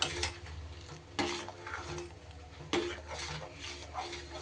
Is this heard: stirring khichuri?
yes